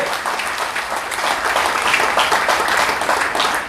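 An audience at a community foundation day gathering in Garhwal Bhawan applauds loudly and steadily, a dense wash of clapping that continues throughout.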